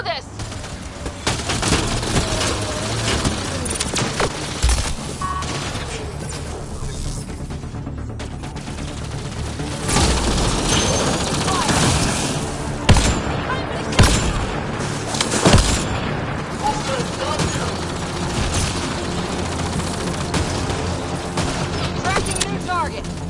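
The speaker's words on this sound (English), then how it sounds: "Pathfinder, I detect heavy weapons fire nearby." Heavy weapons fire in a Mass Effect Andromeda firefight: dense, continuous gunfire and booming blasts layered with mechanical clatter and game music, with voices speaking over the din throughout.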